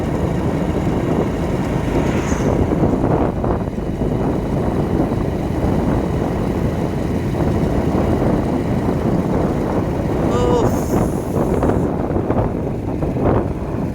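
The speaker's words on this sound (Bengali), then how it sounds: "ভীষণ হাওয়া উঠেছে এবং ভীষণ মেঘও লেগেছে আকাশে" Strong wind sweeping across a road through jungle under heavy clouds before rain, a loud, unbroken roar buffeting the microphone for the whole stretch, with no voices.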